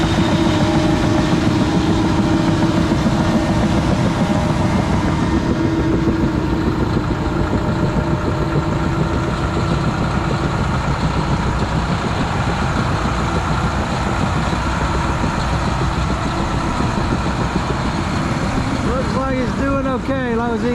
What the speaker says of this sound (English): Here comes the truck now.